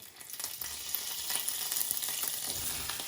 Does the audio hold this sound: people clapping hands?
no